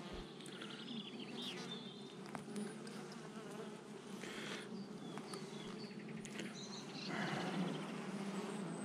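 Honeybees buzz around a hive outdoors, a dense, steady hum with individual bees passing close to the microphone.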